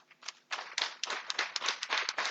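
An audience at a book launch for author Marlys Prussing gives a modest round of applause, a quiet, fairly distant patter of hands clapping in a steady spread of beats over a couple of seconds.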